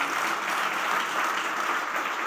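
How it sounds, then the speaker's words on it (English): Steady, dense applause from the audience at the close of a grand premiere evening, continuous and even throughout with no voices standing out. "A huge round of applause once again."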